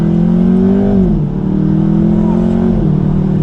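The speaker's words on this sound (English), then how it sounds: "Let's go ahead and downshift in dynamic mode." A 2020 Jaguar F-Type engine drops pitch as it downshifts in dynamic mode, then strains and climbs again under hard acceleration, loud and close.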